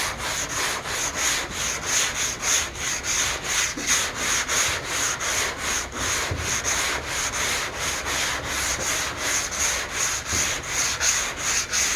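A sanding block rubs by hand over the hood of a 1970 Chevelle in steady, rhythmic back-and-forth strokes, a close, continuous raspy scrape that pulses with each stroke, with no talking.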